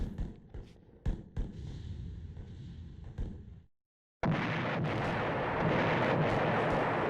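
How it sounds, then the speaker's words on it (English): Cartoonish explosion sound effect in the horror video game Eternal Darkness: Sanity's Requiem, a loud, dense roaring burst that cuts off abruptly into a brief silence before another sustained rumbling blast follows, with no talking. "That is a cartoon explosion sound."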